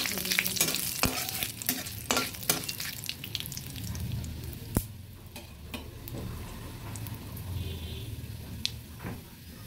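Panch phoron five-spice seeds splutter in hot oil, a steady close frying hiss broken by sharp pops and crackles, with a few louder clicks of a spoon against the pan.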